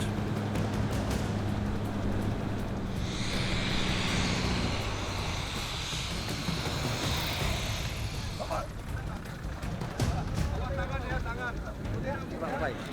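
A small aircraft in flight carrying a tiger being relocated in Sumatra, with a steady, loud engine drone throughout, plus tonal hum early on and some rattling cabin noise.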